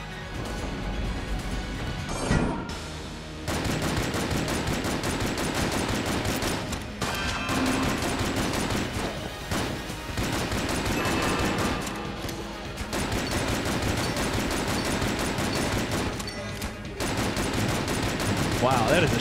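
Guns fire in Enter the Gungeon as loud, steady rapid-fire bursts split by short pauses, with crashes and impacts mixed in, over nearly twenty seconds.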